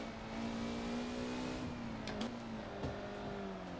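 A Caterham Superlight 5 lapping the Nordschleife gives a steady, loud engine note held at high revs, dipping briefly and climbing again as the throttle is worked through corners, with no talking.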